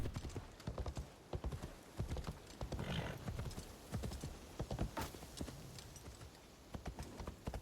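Horse hooves clip-clopping steadily in snow in Assassin's Creed Shadows, a regular trotting rhythm across the whole stretch with a brief whinny near the middle, fairly quiet and without talk.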